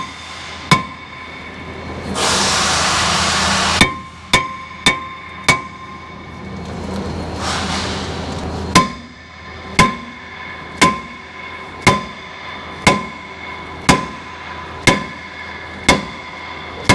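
A hammer strikes a seized brake rotor on a Ford Super Duty truck. About a dozen loud, sharp metallic blows land at a steady, roughly one-per-second pace, with two long rushing bursts of noise early on.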